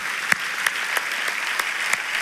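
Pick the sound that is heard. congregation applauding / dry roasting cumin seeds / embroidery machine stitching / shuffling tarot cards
congregation applauding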